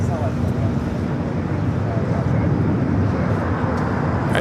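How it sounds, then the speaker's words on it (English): A Boeing 767 airliner touches down at LAX on a flight from JFK, producing a loud, steady broadband jet roar with a low rumble that holds unbroken throughout. "Flight 767 coming in from JFK,"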